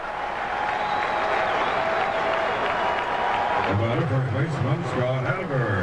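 Boston fans in a crowd of more than 37,000 at a Red Sox–A's baseball game cheer and applaud in a steady, broad roar, and a commentator begins speaking over it partway through.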